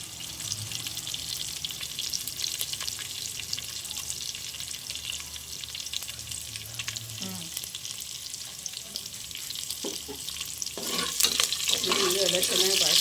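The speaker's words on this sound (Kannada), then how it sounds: "ಎಲ್ಲ ಚೆನ್ನಾಗಿ ಬಾಡಿಸ್ತೀನಿ" Garlic, chillies and curry leaves fry in a pan with a continuous crackling sizzle and occasional stirring clinks, with a brief voice near the end.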